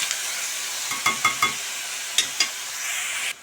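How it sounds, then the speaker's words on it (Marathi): Finely chopped onion sautés in a pan, giving a steady close sizzle broken by several sharp stirring scrapes and taps of a spoon against the pan. "कांदा आपण चांगला परतून घेऊया कांदा आपल्याला लालसर करायचा आहे गुलाबी रंगाचा"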